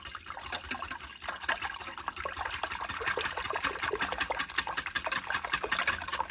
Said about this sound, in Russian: Все это перемешиваем венчиком.